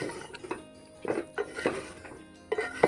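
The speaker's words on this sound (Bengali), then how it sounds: "বন্ধুরা এইভাবে সাবু এবং ডাল সবজিগুলো এইভাবে একসঙ্গে মিশিয়ে নেব।" Sago, mung lentils and vegetables being stirred together in a pot over boiling dal, giving a few scattered scrapes and clinks of a spoon against the metal pot, close and fairly quiet.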